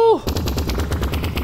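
Video game gun firing its alternate fire in a shooter against military-grade robots: a short tonal chirp, then a rapid, evenly spaced burst of loud shots in quick succession, close and dominant.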